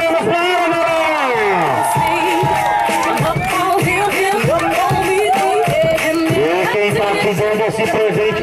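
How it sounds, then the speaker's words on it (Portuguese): A party crowd cheers and whoops in a loud, continuous wall of sound, with excited shouted voices and some clapping mixed in. "Uma salva de palmas pra ela, galera!"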